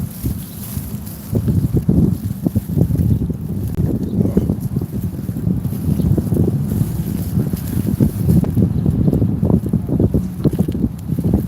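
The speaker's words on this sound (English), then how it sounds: "This area is like a freaking wind tunnel over here." Strong wind gusting across an open park, a loud steady rumbling roar buffeting the microphone throughout, with no voices.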